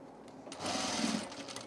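A sewing machine stitches around the edge of a leather tool case, a steady mechanical whir that rises at about half a second and runs continuously close to the microphone, with no talking.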